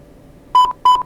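Two short electronic beeps from a homemade low battery level alarm triggered near 10 volts, clear steady tones in a quick pair against a quiet background.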